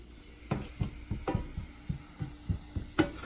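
Garlic frying in hot oil with pepper for a marinara sauce: soft, irregular crackles and taps come in a steady series of short pops, close and fairly quiet.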